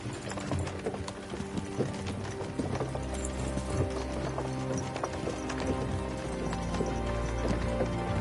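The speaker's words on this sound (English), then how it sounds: "don't you think maybe we could make the horses go a little faster?" Horse hooves clip-clopping at a slow, steady pace in the video game Kingdom Come: Deliverance II, a continuous rhythmic plodding alone, with no talk.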